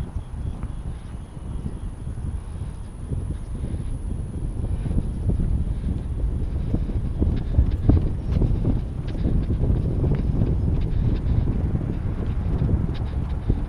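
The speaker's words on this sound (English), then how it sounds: "Oh, it's a little windy." Steady outdoor wind roars and buffets the microphone throughout, a constant low rumble with gusty swells and no voices.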